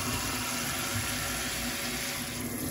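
Water runs steadily from a kitchen tap into the sink, a continuous hissing splash at moderate level with no voices over it.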